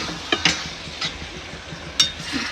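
A Kolkata-style chicken masala is stirred in a pan, giving a few scraping, clinking strokes of the spoon against the metal over a soft background hiss, with no talking.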